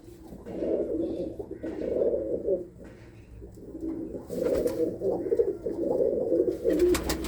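Racing pigeons coo in repeated low, throaty bursts, close and fairly loud, with a steady murmur of several birds and a few brief higher rustles near the end.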